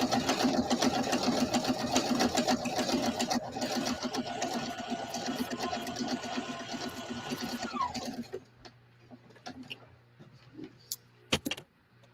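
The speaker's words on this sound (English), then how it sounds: "I can't really hear much over the machine, so I'm going through cardstock" Sewing machine stitching through cardstock, a loud, steady, clunky mechanical whir running for about eight seconds, then cutting off to near silence with a few faint clicks near the end.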